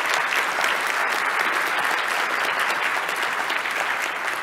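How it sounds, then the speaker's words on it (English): Sustained applause from a large audience at the 2017 LVGEA Las Vegas Perspective business event, dense and steady throughout at close, loud level with no talk over it. "Let's give a round of applause for this group."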